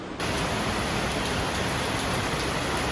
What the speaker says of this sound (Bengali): বৃষ্টি পড়েই যাচ্ছে, জানি না কখন বেরাবো আমরা।